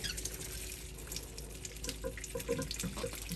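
Water pours and splashes from boiled white beans draining in a colander at a sink, a steady close running wash with small irregular drips and gurgles, no talk.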